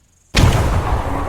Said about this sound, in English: Oh, that was a frag.